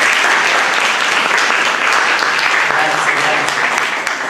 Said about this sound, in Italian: io farei un applauso innanzitutto